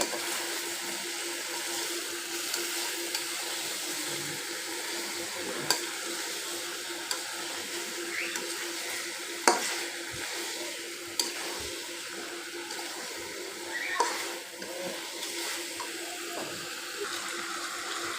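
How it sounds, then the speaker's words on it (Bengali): Rohu fish head sautéing with spices in a pan, with a steady sizzle running throughout and several sharp scrapes and clinks of stirring heard close up. "মাথাটা আমি আগে একটু দিয়ে দিলাম এর সাথে একটু কষিয়ে"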